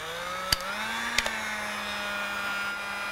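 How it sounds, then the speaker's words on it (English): A heat gun blows steadily over a crackle paint finish, a constant whirring hum with a couple of sharp clicks early on and no talking. "I'm using a heat gun, which is almost too hot"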